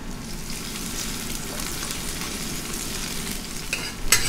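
Onions frying in oil in a wok give a steady, close sizzle, with a few sharp clinks of a utensil against the metal near the end.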